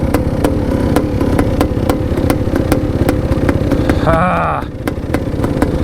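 A big bore two-stroke motorcycle idles close by after a kick start with a loud, rapid, uneven ring-a-ding clatter, and a person makes a brief exclamation over it.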